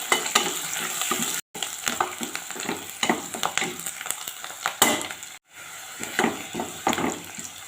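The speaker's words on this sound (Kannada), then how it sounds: "ಈಗ ಇದನ್ನು ಚೆನ್ನಾಗಿ ನಾವು ಫ್ರೈ ಮಾಡ್ಕೋಬೇಕು." Onions and curry leaves frying in hot oil for a Mangalorean chicken liver pepper fry, a continuous bright sizzle broken by scraping stirs and two brief dropouts.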